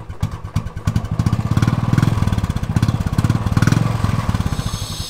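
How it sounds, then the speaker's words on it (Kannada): A Royal Enfield motorcycle with a cut stock silencer idles and revs close up, its exhaust thumping in a deep, rapid, even rhythm that swells louder in the middle and settles again. "ಇವಾಗ ಇದರಲ್ಲಿ ಒಂದು ಸೌಂಡ್ ಆನ್ ಮಾಡ್ತೀನಿ ನೋಡಿ, ಎಷ್ಟು ಸಕ್ಕದಾಗಿ ಬರುತ್ತೆ ಎಕ್ಸಾಸ್ಟ್ ಸೌಂಡು ಅಂತ"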